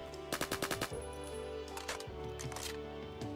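Rapid bursts of AKM assault rifle fire in a first-person shooter video game, a tight cluster of loud automatic shots followed by sparser single cracks and game effects over a steady background hum.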